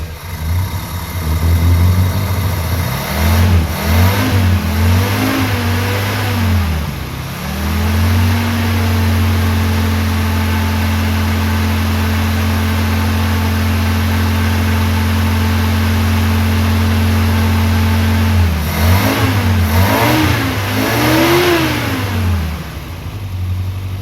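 An old engine that has sat unused for 30 years runs on choke, rising in loud revs and then settling into a long steady idle before revving up again.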